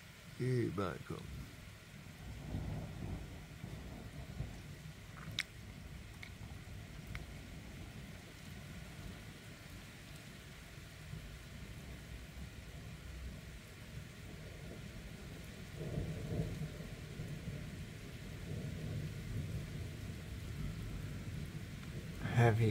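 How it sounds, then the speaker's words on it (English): Heavy rain falls steadily during a night thunderstorm, a soft continuous patter with low rumbles swelling at moments, fairly faint and distant overall. "Heavy, heavy rain."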